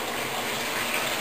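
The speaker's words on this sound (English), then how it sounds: "3/4 inch line tub taps here. They fill your bathtub quickly." Water gushing steadily from quick-fill 3/4 inch tub taps into a walk-in bathtub, a close, continuous broadband rush with no break and no voices.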